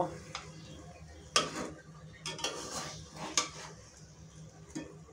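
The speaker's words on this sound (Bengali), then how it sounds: "এখন খুব ভালোভাবে তেলের সাথে নেড়ে চেড়ে আমি কিছুক্ষণ এটা রান্না করব।" About two kilograms of raw mango pieces are stirred in oil in a pot for a sweet-sour mango pickle with jaggery, giving soft intermittent clinks and scrapes of a spoon against metal, close but quiet.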